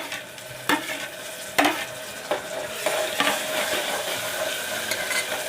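Two tomatoes hit onions already browned in hot oil, setting off a loud sizzle with several sharp utensil scrapes and knocks as they are stirred, over a constant frying hiss.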